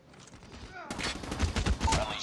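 Rapid automatic gunfire from Call of Duty: Mobile, a dense burst of shots erupting after a quieter opening, with a voice faintly underneath.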